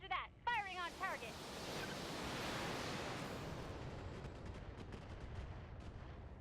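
Mech weapons in BattleTech blasting a Manticore vehicle, a quick series of sharp shots at the start followed by a long, swelling rumbling explosion that slowly fades.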